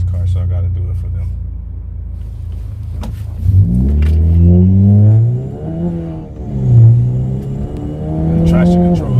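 A turbocharged Chevrolet Cruze pulls hard under acceleration, its engine note rising steadily in pitch through the gears after a low rumbling start, loud and close from inside the car.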